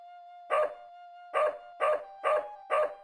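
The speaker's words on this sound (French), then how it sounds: "mais le chien-chien me suit" A dog barks in the Blackwell Legacy video game: five short, loud barks, one single and then four in a fairly even run, over a steady electronic hum, with no talk.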